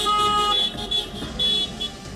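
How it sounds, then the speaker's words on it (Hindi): Car horns honk during a celebratory car rally on the streets of Luhansk, with sustained blasts that start and stop in an uneven rhythm over steady traffic noise. "लुहांस्क की सड़कों पर लोगों ने कार रैली निकाली और हॉर्न बजाते हुए अपनी खुशी का इजहार किया।"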